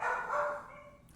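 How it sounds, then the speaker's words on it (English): Dogs bark somewhere in the background, a brief muffled burst at a distance rather than close by. "the dogs in the background"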